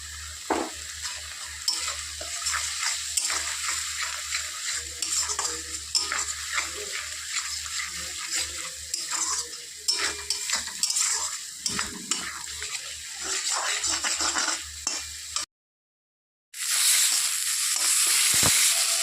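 Spices sizzle and crackle in a hot pan while a spoon stirs steadily; the sizzle cuts out briefly near the end, then returns louder.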